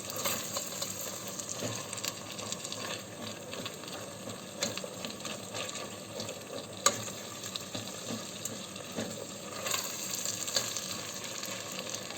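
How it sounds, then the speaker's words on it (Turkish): Tomato paste frying with chopped vegetables in a pan for a pea stew, a steady close sizzle with faint scraping, one sharp clink partway through and no talk. "güzelce salçamı kavuracağım sebzelerimle"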